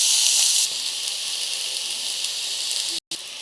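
Tomatoes tipped into a little hot oil with panch phoron for tomato chutney, giving a steady bright hiss that starts loud and settles into a constant sizzle, broken by a brief silent gap near the end.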